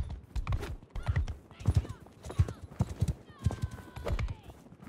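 A horse's hooves clip-clop at a steady, rhythmic pace while riding in the video game Mount & Blade 2: Bannerlord. Someone talks over the hoofbeats throughout.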